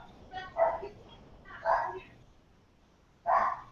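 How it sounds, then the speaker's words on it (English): A dog barking in the background of a room, three separate barks spaced apart with pauses between, moderately loud with no voices over them. "My dog's going crazy in the background."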